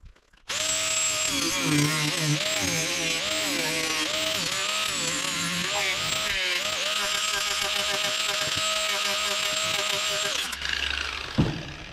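A loud, steady whining power tool grinds through a stainless steel exhaust pipe for about ten seconds, then stops abruptly, followed by a brief clatter.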